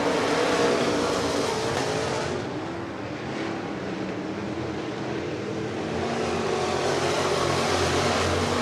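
USAC sprint cars race on a dirt track, a dense, loud engine roar that swells and dips as the pack passes, holding steady without talk.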